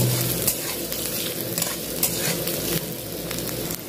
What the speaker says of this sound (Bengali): পেঁয়াজটা লঙ্কাটা হালকা ভেজে নিচ্ছি।